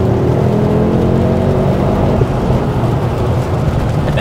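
A Ford Focus ST MK2 with its five-cylinder engine, manual gearbox and front-wheel drive, heard under way with a loud, steady droning engine note and heavy road and wind rush throughout.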